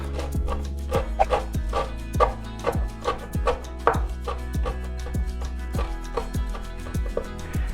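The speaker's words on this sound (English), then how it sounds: "I kind of roll it into a bit of a ball and then chop it like this." A knife rapidly rough-chopping food rolled into a ball on a board, with a steady run of sharp, close, evenly spaced thunks and no talking.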